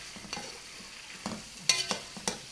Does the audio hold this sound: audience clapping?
no